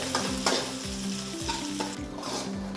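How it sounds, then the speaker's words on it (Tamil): Onions, curry leaves and slit green chillies sauté in oil in a kadai, giving a steady close sizzle with a regular rhythm of stirring strokes scraping the pan. "இது எல்லாம் சேர்ந்து வெங்காயத்தோடு வதங்கி வரட்டும்."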